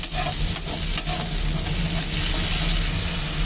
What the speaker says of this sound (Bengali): এখানে পেঁয়াজ আর কাঁচা লঙ্কা বাটা আছে, একটু কষিয়ে নেব